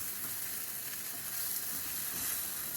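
Scrambled eggs with cheese fry over high heat in a pan, giving a steady, close sizzle with a soft scraping stir now and then, and no voices.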